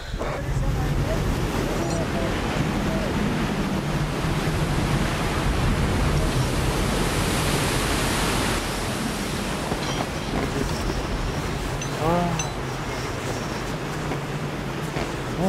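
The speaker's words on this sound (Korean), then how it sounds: "바람이 너무너무 많이 불어서" Strong wind roaring across the K2 summit, a dense continuous rush buffeting the microphone, steady throughout with faint voices briefly underneath.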